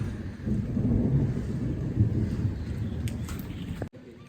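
Heavy rain from a thunderstorm pours steadily with a deep, rumbling low end like distant thunder, then cuts off abruptly near the end.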